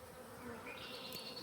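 A swarm of honeybees buzzes close and steady, a dense droning hum that swells slightly partway through, with no voices.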